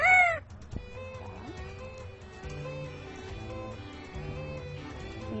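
A parrot imitates a rooster's crow in one loud, rising and falling call at the very start, followed by quieter layered background sound.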